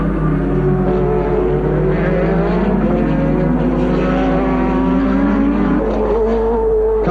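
1983 Formula 1 cars, a BMW turbo and a Renault turbo, race side by side into a corner, their engines a loud, continuous high-revving whine with shifting pitch throughout.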